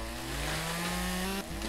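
A chainsaw runs at a steady high whine in the Lumberjack's Dynasty video game while cutting up a tree, with a short dip in pitch near the end of the brief burst.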